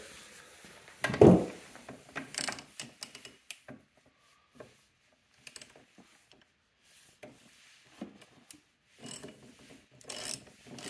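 Ratchet clicks while tightening bolts on a Polaris Axys RMK snowmobile chain case during a belt drive conversion, arriving as scattered short bursts of mechanical clicking and rubbing with quiet gaps between them.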